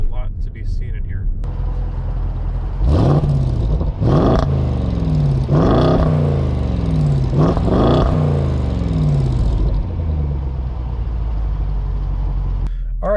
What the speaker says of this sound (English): I'm going to give you guys an exhaust clip